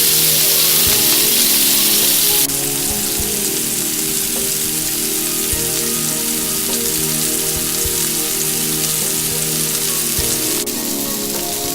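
Wild sockeye salmon sizzles steadily in a hot pan, a dense rain-like hiss that runs loud and even throughout, easing slightly after a few seconds with soft occasional clicks.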